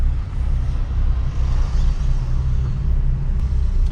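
A 1983 Ford Falcon XE engine idles smoothly and steadily, a low, even rumble heard close by for a few seconds.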